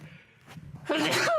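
A single loud human sneeze close to the microphone, preceded by a brief quiet inhale and faint background noise.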